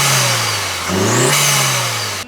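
A daily-driver car engine fitted with a cold air intake revs up and settles, a steady loud mid-pitched drone with one rising rev in the middle, close and alone with no talk.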